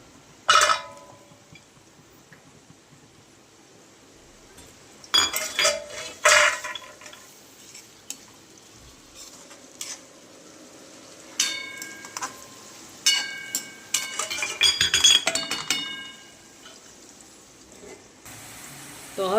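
Chopped onion goes into a hot pan for batata poha, with intermittent sizzling and clattering of utensils in bursts over a low kitchen background.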